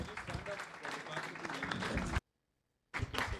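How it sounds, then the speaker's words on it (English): Conference audience gives a round of applause, dense clapping that cuts off abruptly into a short silence before resuming, with voices mixed in. "a quick round of applause."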